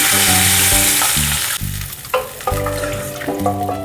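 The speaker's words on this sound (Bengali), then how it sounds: "আমি স্টকটা আস্তে আস্তে ঢেলে দিচ্ছি।" Stock is poured slowly into a hot pan for Vietnamese chicken curry on a low flame. A loud, continuous frying hiss dips and surges as the liquid goes in, over a steady tonal hum.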